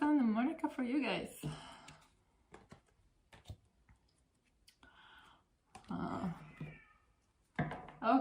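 A house cat meows indoors, a few short cries mixed with soft clicks and faint rustling, set between stretches of someone talking nearby.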